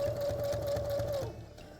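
Sewing machine stitching velcro onto a fabric case for a children's hygiene kit: a steady, close mechanical whir with a rapid rhythmic needle chatter, slowing and stopping near the end.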